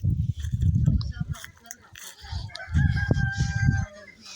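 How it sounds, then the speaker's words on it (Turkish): Chickens cluck and crow nearby in short bursts while feeding on worms, and voices talk over the birds throughout. "Şimdi solucanlarla besleniyor tavuklar."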